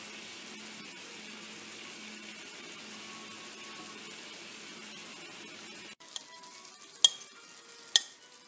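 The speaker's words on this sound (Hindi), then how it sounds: "ये चिकन इनमें डाल के 10 से 15 मिनट्स जो है लो हीट पे इनको कर लेते हैं।" Chicken cooks in cooking oil in a pan on low heat with a soft, even sizzle. The sizzle drops away and is followed by a few sharp clanks of a utensil against the pan.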